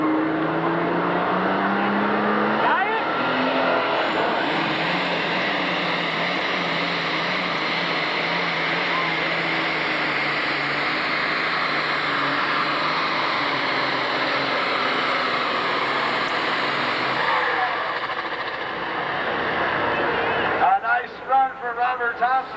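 Robert Thompson's John Deere 4230 super stock pulling tractor, nicknamed Bragging Rights, roars at a steady high load down the track at a 1997 Illinois tractor pull in Freeport. The engine stays loud for about twenty seconds, then drops away as crowd and announcer noise take over.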